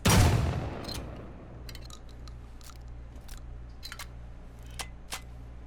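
A single loud blast from the Retro Pixel double-barrel shotgun in Rust rings out at the start, then a low rumble and a few sharp clicks of handling follow.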